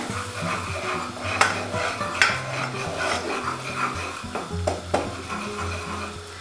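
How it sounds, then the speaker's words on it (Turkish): Butter and flour stirred together as they toast in a pot for a creamy mushroom soup, a spoon scraping and clinking against the metal in steady strokes with a faint sizzle underneath, close and continuous. "kavururken karıştırıyorum"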